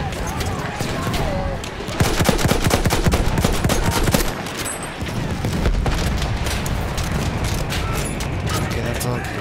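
Rapid gunfire from Battlefield 1 gameplay, dense bursts of shots and booms running steadily throughout, loud and busy, with a player's voice talking over the action.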